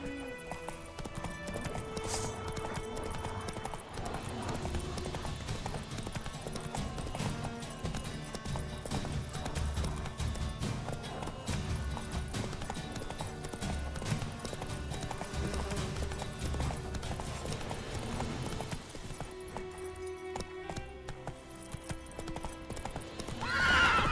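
Roach, a horse in the video game The Witcher 3, gallops with a dense, continuous drumming of hooves. A game soundtrack plays loudly underneath the whole time.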